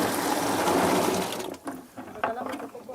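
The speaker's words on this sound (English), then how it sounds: "place the ripe coffee into the water so that we may remove the low quality and ripened beans" Ripe coffee cherries poured into a container of water on a Colombian coffee farm, a dense rushing splash that fades into scattered sloshing and drips.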